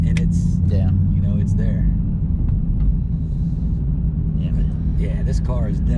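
Deep low rumble of a Dodge Challenger Hellcat Redeye engine while driving, a steady heavy drone heard from inside the car with brief voices talking over it.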